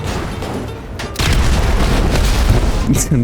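Grenade blast in GTA 5 during a stunt race: a loud, sudden boom bursts in and its rumble fills the rest of the moment, with a voice briefly heard near the end.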